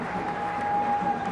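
A cricket stadium crowd applauding Tendulkar, a broad steady roar of clapping from a large audience, continuous and even throughout with a faint tone running through the middle.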